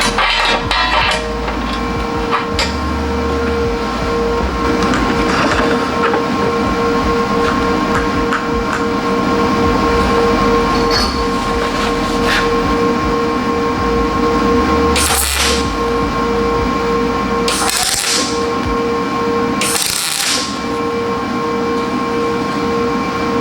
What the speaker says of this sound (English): I'm gonna tack this up, clean the surface real quick again, and tack that up